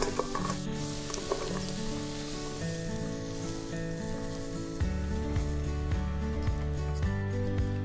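Steady close sizzling of carrots frying in oil in a pan hisses throughout, with tonal music playing underneath.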